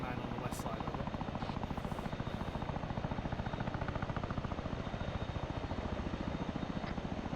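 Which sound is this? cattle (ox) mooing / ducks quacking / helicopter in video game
helicopter in video game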